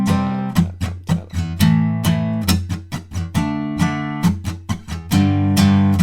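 An acoustic guitar strums the chords of a song in a steady down-up pattern, with sharp percussive muted strums between ringing chords, played close and alone.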